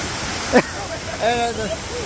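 Steady rushing water of a brown, rain-swollen waterfall and river roars close by, with a voice briefly talking over it.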